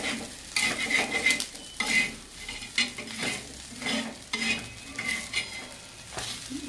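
Wheat chotha with green chilli and onion being stirred and scraped on an iron griddle, with repeated rhythmic spatula strokes over a steady close sizzle of frying.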